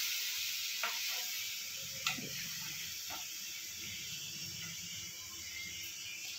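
A tadka tempering sizzles in a pan with a steady, close hiss, broken by a few faint stirring scrapes and taps.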